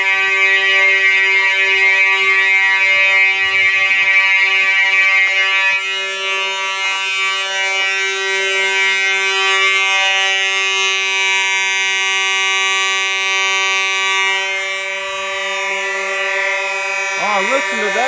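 A Simplex 4005 fire alarm system under test with mechanical horns blaring a steady, harsh, buzzing tone; loud and close, it sounds continuously without a break.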